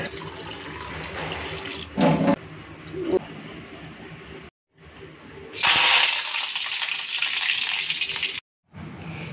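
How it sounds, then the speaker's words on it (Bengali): White flattened rice (chira) being rinsed in water: bursts of splashing and swishing stop and start with short silent gaps, close and fairly loud, with no voices. "সাদা চিড়াটাকে একটু ধুয়ে নেব"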